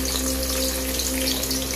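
Onion cubes hit hot oil in a frying pan while a raw mango murrel fish curry is being cooked, giving a steady, close, even sizzle with a faint low hum underneath and no voices.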